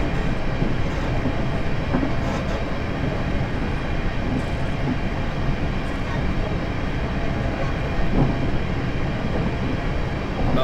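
Continuous rolling rumble of an SWR Class 707 electric train running in Train Simulator 2020, steady and fairly loud with faint clickety-clack of the wheels on rail joints.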